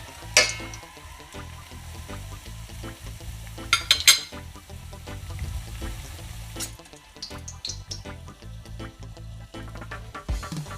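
An ackee patty fries in a pan, giving a soft, steady sizzle with a few sharp clatters and scrapes as it gets turned. No one speaks.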